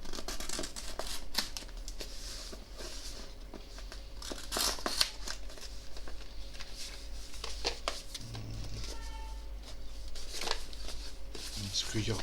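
A small AliExpress parcel being opened, with close crinkling plastic, tearing and snipping sounds in irregular bursts, while a voice talks quietly underneath.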